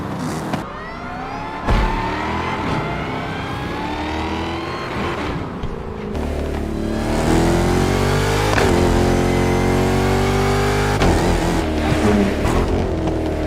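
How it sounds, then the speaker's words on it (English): A Dodge Hellcat engine in a racing video game revs repeatedly, its pitch climbing and falling in loud sweeps, then settles into a sustained high roar. "We'll be testing the sound on the same car, the Dodge Hellcat"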